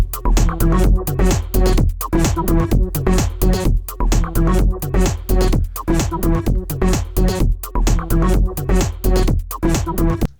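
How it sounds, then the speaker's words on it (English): A repeating loop of electronic music dominated by heavy, booming bass, with punchy, tightly rhythmic beats that cycle several times, loud and dense, with no voices. "I've got a loop of electronic stuff and it sounds like this"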